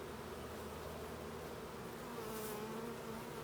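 A dense, steady buzz of many bees close by, humming continuously without pause.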